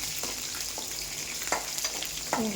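Halved shallots fry in a pan with a steady, close sizzle and a few soft stirring scrapes, with no talking.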